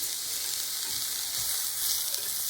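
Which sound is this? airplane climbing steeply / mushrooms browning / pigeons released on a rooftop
mushrooms browning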